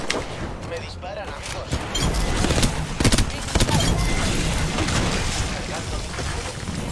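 Dense gunfire in the Apex Legends video game, rapid overlapping shots and booming impacts crowding a continuous battle din, with voices talking over it.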